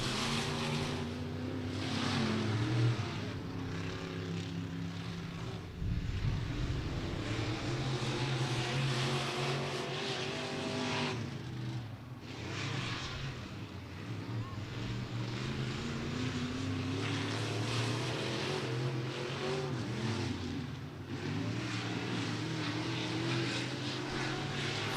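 Race car on a qualifying lap at Beckley Motor Speedway, the No. 103 from Oak Hill, West Virginia, a steady loud engine roar with pitch rising and falling as it circles the short track, continuous throughout.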